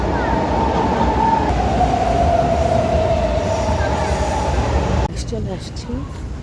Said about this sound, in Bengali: মেট্রো চেঞ্জ করে এখন আটটা ট্রেন উঠবো